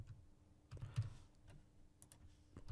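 Keys on a computer keyboard tapped in short, scattered clicks while an email address is entered, close and fairly quiet with a low hum underneath.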